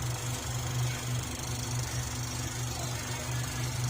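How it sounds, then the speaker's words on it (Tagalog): A saucepan simmers on a stove, giving a steady, even hiss with a low rumbling hum underneath that continues throughout. "Naririnig yata yung tunog ng aking saucepan."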